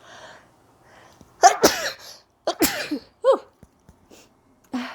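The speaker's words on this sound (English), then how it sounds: "I think I have to sneeze" Several sharp sneezes burst out close by, each a sudden explosive exhale, followed by a softer final sneeze after a pause.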